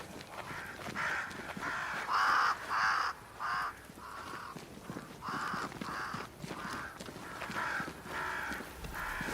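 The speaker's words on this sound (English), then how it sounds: "Crows. They flock to that great tree up there." Crows caw repeatedly in a series of loud, harsh calls from birds gathered at a large tree, the calls coming in bursts over steady outdoor background noise.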